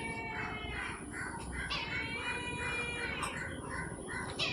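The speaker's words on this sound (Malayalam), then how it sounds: "കാക്ക ഭയങ്കര പ്രശ്നമാണ്. വൈകുന്നേരം തൊട്ടേ ഈ കൊമ്പിലിരുന്ന് കരയും" A crow caws repeatedly from a tree branch in a garden, a rhythmic series of harsh calls at moderate distance over a constant high electrical whine and low background hum.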